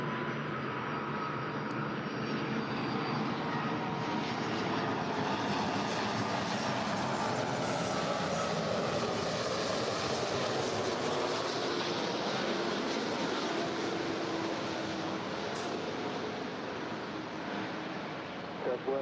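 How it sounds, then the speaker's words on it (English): Ten-year-old Hawaiian Airlines Airbus A330-200 arriving at LAX from Kahului, a broad steady jet roar that holds loud throughout, with people talking underneath. "Our next arrival is Hawaiian Airlines Flight 34 coming in from Kahului. It's a 10-year-old Airbus A330-200."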